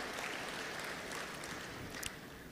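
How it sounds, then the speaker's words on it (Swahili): Audience of elders in Dar es Salaam applauding the President at a public gathering, steady dense clapping throughout, moderately loud with a brief sharper burst near the end. "naomba wote kwa pamoja tumpigie makofi Mheshimiwa Rais"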